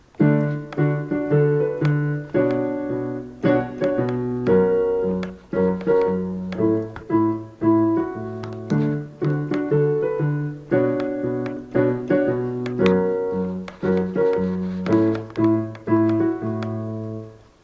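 The intro of a song is played on piano, with steady, driving repeated chords in a bouncy rhythm and a bass line underneath, clear and close, no talking.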